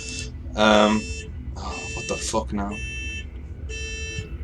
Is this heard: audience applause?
no